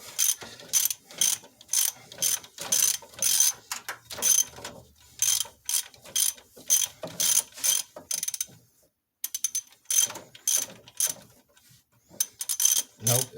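Ratchet clicking in repeated bursts while turning alternator bolts on a 1998 Chevy K1500, close and crisp, with a short pause midway.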